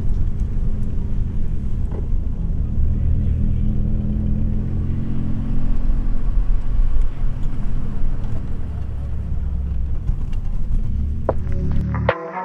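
Idling and slowly moving cars at a Friday night car cruise meetup in Newcastle make a low, steady throbbing rumble and hum, moderately loud and continuous for about twelve seconds, with a brief clatter and a voice-like sound near the very end.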